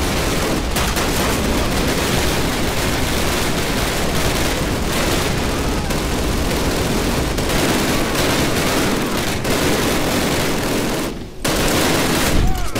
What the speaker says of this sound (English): Znowu MG42 stało na naszej drodze.